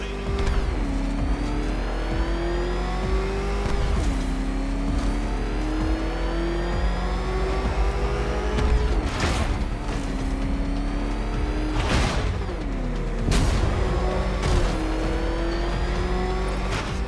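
The Batmobile in Batman: Arkham Knight races continuously, its engine revving up and down through repeated gear shifts, with sharp bursts and skids breaking through the steady loud roar.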